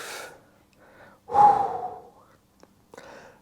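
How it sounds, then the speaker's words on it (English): A person breathes deeply and gasps audibly up close, with a strong inhale in the middle and softer breaths around it, then a couple of small clicks. "And breathe."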